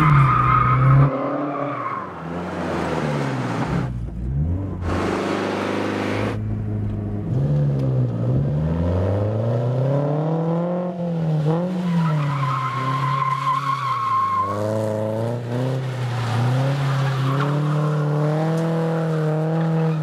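A car drifts sideways, its tires skidding and squealing in long, loud, wavering screeches over a revving engine, with a few sharp bursts of broadband noise along the way.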